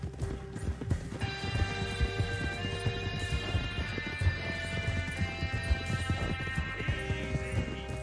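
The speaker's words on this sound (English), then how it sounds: "Riding the horse bareback." Rapid horse hoofbeats clatter in a continuous galloping rhythm, close and loud, over a droning tonal background with a brief whinny-like tone, in the video game Red Dead Redemption 2.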